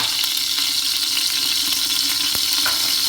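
Oil crackles and sizzles steadily in a pressure cooker, a constant hiss with small pops and a brief clink partway through.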